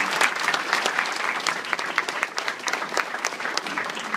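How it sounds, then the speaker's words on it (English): An audience claps warmly for a girl at her quinceañera celebration, a full roomful of hands producing steady, lively applause that holds at an even level the whole time with no talking over it. "Can we have one more hand clap for Michelle, please?"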